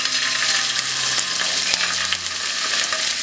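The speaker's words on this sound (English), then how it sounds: "I'm going to add some scallops to the pan," Scallops searing in a pan heated for several minutes over medium-high heat, a loud, dense, continuous sizzle and crackle close up, with no voices.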